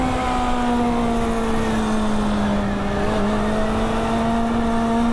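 A Yamaha FZ6 motorcycle engine drones loudly and steadily at close range during wheelie practice, its pitch sagging slightly and then rising again without pause.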